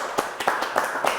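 Sparse, slow clapping from a small audience, four distinct claps spaced evenly about a third of a second apart, fairly close and clear with no voices.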